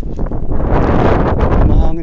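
Strong wind buffets the microphone by the sea during solo fishing, a loud continuous rumbling roar with gusty swells, close and filling the whole stretch.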